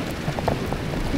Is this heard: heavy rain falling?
yes